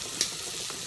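Shrimp fry in a pan while being stirred, a short bright sizzle with a faint scrape, close and continuous for under a second.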